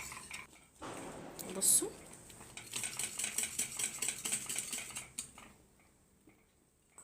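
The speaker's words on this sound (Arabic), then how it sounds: "برضو انا بقلب باستمرار" Spoon stirring a kunafa mixture in a pot, giving soft continuous scraping and clinking with a faint high ringing tone, while a person speaks briefly.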